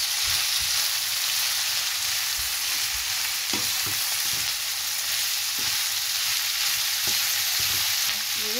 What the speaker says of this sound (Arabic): بعد كده بقى اقلب كويس، افضل اقلب فيها كده